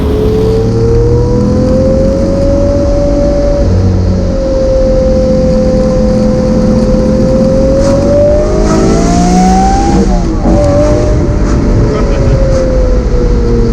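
A loud Lamborghini Murcielago engine revs and accelerates close by, its pitch climbing steadily then dropping and rising again as it shifts.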